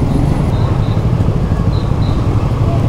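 Congested city street traffic in Ambon: a loud, dense wash of motorcycle and car engines heard from among the vehicles, steady and unbroken, with a couple of faint horn-like tones partway through.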